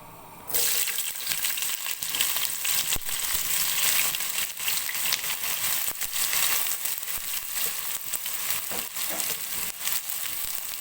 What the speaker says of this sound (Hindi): प्याज को भी जो है वो हल्का सा फ्राई करेंगे।